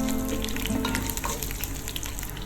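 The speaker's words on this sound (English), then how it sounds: "Into a heated vessel, add vegetable oil, mustard seed, fenugreek seeds," Mustard, fenugreek and cumin seeds sizzle loudly in hot vegetable oil in a heated vessel, a dense, steady crackle of frying that starts strong and softens slightly over its length.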